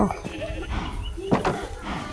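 Sheep bleating in the Minecraft video game, a few short wavering bleats at moderate loudness over faint background game sound, with no talk.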